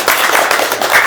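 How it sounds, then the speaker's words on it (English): A short burst of audience applause at a remote work panel discussion: dense, even clapping lasting about a second, with no speech over it. "A little round of applause."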